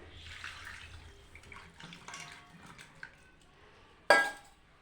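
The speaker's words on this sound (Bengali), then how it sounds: "জল দিয়ে দিচ্ছি।" Water is poured into a pot of mashed masoor lentils. Quiet trickling and light clinks of cookware lead to a short, louder splash near the end.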